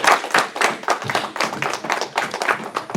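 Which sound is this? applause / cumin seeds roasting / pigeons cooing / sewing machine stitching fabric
applause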